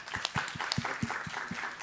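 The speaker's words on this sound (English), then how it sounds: "let's have another round of applause for the Africa team" A round of applause from a meeting audience for a presenting team, with distinct claps at a fairly regular pace, sounding like a modest group of hands at moderate distance, with slight voice murmur under it.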